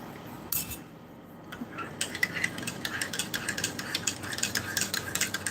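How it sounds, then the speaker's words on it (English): A spoon stirs a cup of hot cocoa, which is part of a field ration meal, and a quick run of light metallic clinks and scrapes against the cup carries on steadily and close by with no talk. "Cocoa needs a bit of a stir again."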